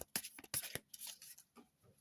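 Quiet, close crisp riffling and slapping of playing cards being shuffled in a few quick bursts, with soft pauses between.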